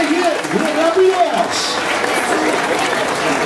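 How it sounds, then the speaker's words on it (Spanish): A dolphin show crowd applauds at a Cuban delphinarium. Steady clapping and cheering fill the whole stretch, while a voice talks over the first part. "aquí el aplauso, muy bien hecho"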